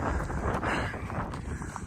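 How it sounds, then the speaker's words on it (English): Strong wind on an Appalachian Trail mountain top buffets the microphone in a steady, roaring rush with gusty swells, loud and close, with no voices. "Apologize for the wind."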